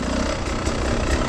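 A Beta 300 motorcycle engine, its carburettor idle screw just turned half a turn, idles steadily at a slightly lowered speed, a continuous close rumble with no talk over it.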